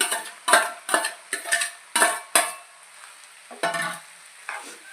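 Egg fried rice is stirred and tossed in a pan. A spatula scrapes in quick repeated strokes over a light sizzle, then the rhythm slows to a few scattered scrapes.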